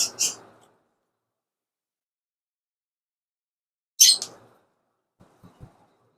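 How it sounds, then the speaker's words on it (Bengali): Two short bursts of shrill, high-pitched calls from hill myna and ring-necked parakeet chicks a few seconds apart, close by, followed by faint low knocks and rustles in otherwise quiet surroundings. "এই যে দেখতে পাচ্ছেন আছে রিং নেক টিয়া"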